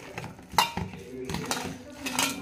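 Prawn fritter batter of chopped onion, coriander, chili, salt, flour and gram flour being mixed in a bowl, with close clinking and scraping strokes of utensil against dish, continuous and busy, no voices.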